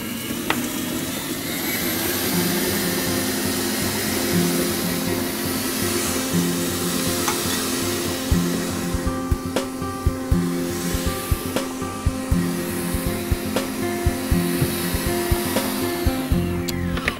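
An electric hand mixer beats butter, sugar, orange zest and vanilla for orange cupcake batter, giving a loud, steady whirring drone throughout, with small knocks and rattles from the beaters toward the end.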